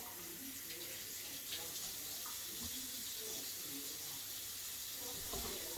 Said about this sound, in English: I'll take the meat, rinse it off in the sink